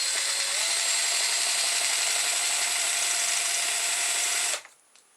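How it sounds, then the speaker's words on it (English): A battery-powered cordless drill spins a scavenged fan motor with a steady, close, loud whir and a high tonal whine that holds for about four and a half seconds, then cuts off abruptly. "stick my drill on it"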